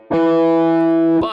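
Single notes of a power chord on distorted electric guitar: a sustained, heavily distorted note rings steadily for about a second, then cuts off with a brief pick scrape.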